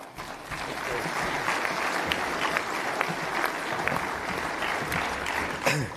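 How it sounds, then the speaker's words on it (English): Evening crowd applauds at a public panel event in Grande Prairie, Alberta, with steady, full clapping that keeps a level roar from start to finish and a few louder individual claps poking through. "to hear all of you clapping and your applause"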